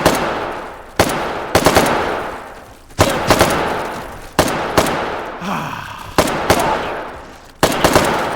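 Automatic gunfire in the H3VR video game cuts down Sosigs in loud, sharp bursts that repeat roughly every second, each ringing out and decaying before the next, with no voices.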